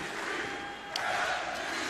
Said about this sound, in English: The crowd here in the Wintrust Arena trying everything they can to encourage Cassidy.